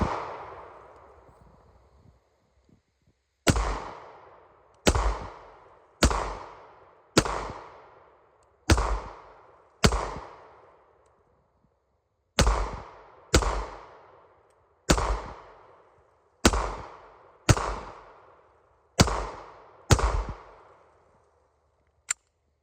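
Gunfire aimed at an anthill: about fifteen sharp, loud single shots, each with a decaying ring-out, spaced roughly a second apart in two groups with a short pause between, and no talking.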